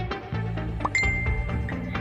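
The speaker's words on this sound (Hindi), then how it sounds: "मोबाइल पर एक के बाद एक नोटिफिकेशन आने लगे।" Phone notification alerts ping one after another, short bright chimes and a sustained ding layered over a steady tonal musical bed, close and fairly loud with no speech.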